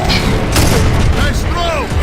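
A grenade explodes during a Gears of War Judgment battle, a loud rumbling boom amid constant gunfire and combat noise, with shouted voices over it.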